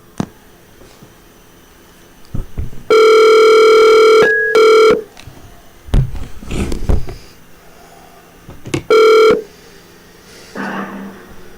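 Electronic telephone ringing comes in several loud bursts, two long rings and then shorter ones, separated by pauses with quieter handling noises in between.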